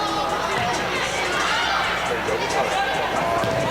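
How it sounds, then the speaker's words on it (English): Indoor crowd at a Louisville Triumph FC women's PASL soccer match, a steady loud swell of cheering and chatter filling the arena beneath a commentator's voice. "You can hear the crowd getting into it."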